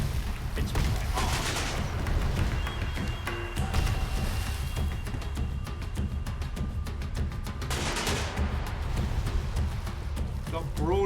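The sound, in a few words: ship cannon broadsides in video game Sail Forth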